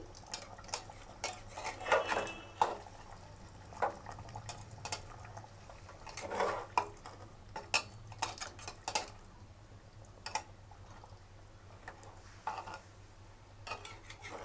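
A spoon clinks and scrapes inside a pot of Bengali-style mutton curry with added water, irregular metallic taps and stirring over a low simmering bubble, close and fairly quiet.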